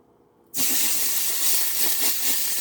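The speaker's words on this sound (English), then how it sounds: "So, about to put that in. Get ready for the sizzle." A loud, steady sizzle bursts in suddenly after a brief quiet moment as pork tenderloin hits a hot wok, and keeps hissing evenly, close by, with no voices.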